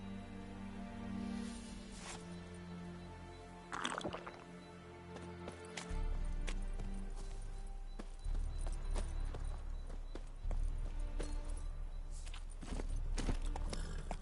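Steady clip-clop of a horse's hooves walking at an even pace, over a low rumbling game-like background.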